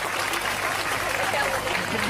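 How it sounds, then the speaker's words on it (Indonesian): An audience applauds for the children at an Islamic gathering, a steady, dense wash of clapping that holds evenly for about two seconds with crowd noise mixed in. "tepuk tangan untuk anak-anak kita"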